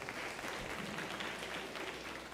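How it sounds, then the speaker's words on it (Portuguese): A church congregation claps during a service, a short burst of dense applause from many hands, fairly distant and soft. "Dá um aplauso para o Senhor"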